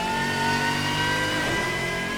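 A vintage GT race car in the Assetto Corsa game holds a high, steady engine note with whistling overtones as the exhaust revs, loud and continuous throughout.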